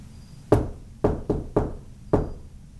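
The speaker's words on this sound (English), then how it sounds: "Can you knock back twice to this?" Five sharp knocks on a surface inside a reportedly haunted house, a single rap followed by a quick group of three and one more, each clear and close with a short decay in a quiet room.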